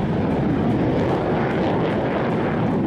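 A military jet aircraft, such as an F-22 fighter, roars loudly and steadily overhead in a dense, continuous broadband rush with no voices, cutting off abruptly at the end.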